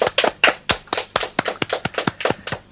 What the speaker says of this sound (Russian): Я слышу ваши аплодисменты.